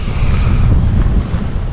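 Strong wind blusters across the mic on a quiet stretch of beach in Boracay, a loud, continuous roar with low rumbling gusts and surf washing underneath.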